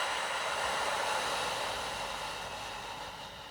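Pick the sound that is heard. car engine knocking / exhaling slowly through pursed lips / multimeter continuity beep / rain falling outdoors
exhaling slowly through pursed lips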